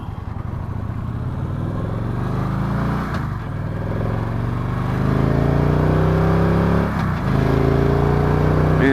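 A 2016 Victory Cross Country Tour motorcycle pulls away and rides off, its engine droning loud and close with rising revs and gear-shift dips as it accelerates steadily.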